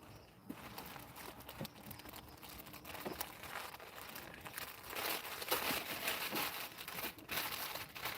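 Wrapping material crinkles and rustles close by as it is wound around a beehive in a winter bee yard, a dense run of crackling that swells louder in the second half.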